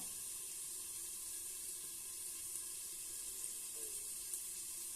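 Water trickles onto a plate set over a pan of frying bitter gourd, a faint steady hissing wash blended with the soft sizzle beneath, continuous and quiet with no talking.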